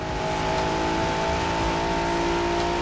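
A tuned stock engine revs steadily in Forza Horizon 4, a loud continuous drone with sustained harmonic whine, close and unbroken throughout as the car drives at speed.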